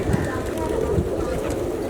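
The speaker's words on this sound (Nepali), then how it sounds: "अहिले छौँ हामी हनुमान ढोकाको जस्ट अगाडि यति धेरै परेवाहरू छन् यहाँनिर अहिले" Flock of many pigeons at Hanuman Dhoka square in Kathmandu, cooing and rustling steadily amid a busy outdoor crowd murmur, with faint voices in the background.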